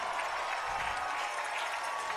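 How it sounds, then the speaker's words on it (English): Baseball crowd cheering after a sliding catch at the left-field wall, a steady, dense roar of applause and shouting that holds at a constant level throughout. "The crowd erupts as Giovanni Blanchette makes a miracle catch"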